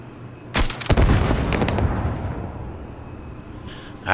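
Explosive tanks blowing up in the Starfield video game: a sharp loud blast, then a second burst of cracking booms that fades into a long rumbling tail, with a faint later crack.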